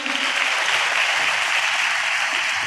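A church congregation applauds together at a Telugu Christian prayer service, a steady dense wash of clapping held at an even level throughout with no voices standing out.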